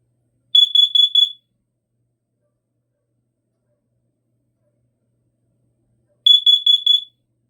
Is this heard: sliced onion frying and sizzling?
no